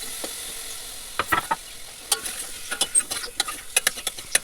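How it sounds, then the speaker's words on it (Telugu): Tomatoes fry in oil in a pan and are stirred, giving a quiet sizzle broken by sharp, irregular clicks and scrapes of the spoon that grow busier toward the end. "టమోటా వేసి టమోటాను కూడా బాగా వేయించాలి."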